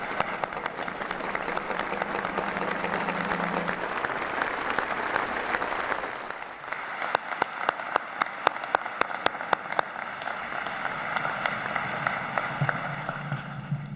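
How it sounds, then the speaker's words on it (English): Audience applause at a 2012 Veterans Day ceremony, a sustained dense clapping that fills the room, then thins into sharper, more separate claps toward the end. "please join me in recognizing our veterans' national leadership with your applause."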